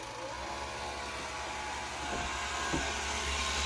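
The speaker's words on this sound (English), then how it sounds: "Our pump is on and running." A Harvest Right freeze dryer's vacuum pump runs with a steady, dull mechanical hum and hiss, continuous and even, with no voices.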